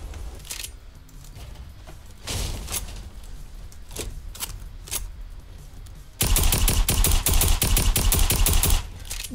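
Gunfire in the video game Fortnite's arena mode: scattered single shots, then a loud, sustained rapid automatic burst near the end, with no talking.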